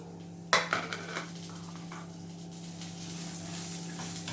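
Green chillies sautéing with turmeric in a pan, a sharp metallic clatter of spoon against pan followed by a soft, steady sizzle with faint scraping.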